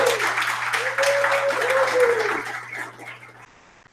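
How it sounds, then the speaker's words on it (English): Brief burst of clapping from a small audience at a Node.js meetup, dense and steady before gradually thinning out and fading, with a faint steady hum underneath. "So big round of applause for Paul"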